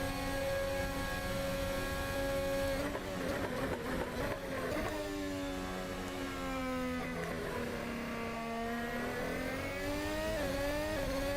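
Ferrari SF-75 Formula 1 car engine in the Assetto Corsa racing sim at Jeddah, a steady high-pitched whine rising and falling through gear changes, continuous and fairly close, with a voice talking over it.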